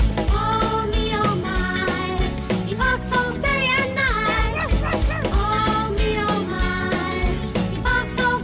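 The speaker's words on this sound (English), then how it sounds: "Oh me oh my, he barks all day and night." Dog barks are woven into a song about a dog that barks all day and night, with sung melody and accompaniment running continuously beneath repeated yelping bow-wow sounds.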